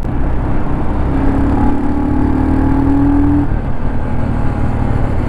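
A Royal Enfield Scram 440 motorcycle engine pulls in 4th gear while ridden one-handed, a loud, steady drone with a tone that rises through the middle and then settles, heard up close with no speech.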